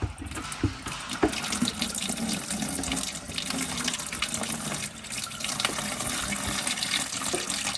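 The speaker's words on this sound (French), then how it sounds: "Tu me verses l'eau?" Water being poured into a container in a hangar renovation setting, a continuous, fairly loud splashing and gurgling stream lasting several seconds, with no voices.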